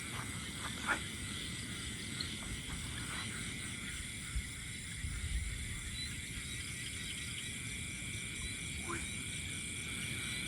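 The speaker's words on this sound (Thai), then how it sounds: "แต่เสียงกบเสียงเขียดตอนเนี้ย ร้องระงมเลย" Frogs croak in a dense night chorus across open countryside, a steady layered drone of calls with insect-like trilling bands, a few brief louder chirps rising above the constant background.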